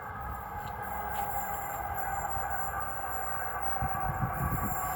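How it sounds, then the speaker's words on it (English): An EMU electric train pulls into Butler station, a steady low rumble and rolling wheel noise that stays fairly loud and constant throughout, with no voices. "Now arriving into Butler station, we have a Butler service."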